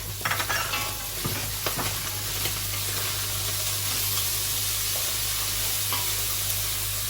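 Two red peppers go into a pot of meat and dried beans and sizzle with a loud, steady hiss of frying, with a few faint clinks at the start, close by and without voices.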